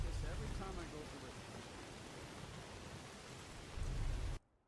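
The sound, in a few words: rain falling in the Skyrim video game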